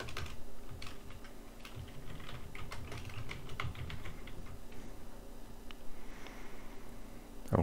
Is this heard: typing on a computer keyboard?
yes